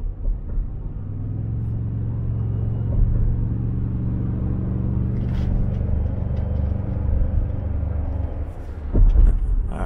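Steady low engine rumble and road drone from inside a 3.5 EcoBoost pickup truck towing a 12,000-pound trailer uphill, laboring under load, continuous throughout with a brief louder thump near the end.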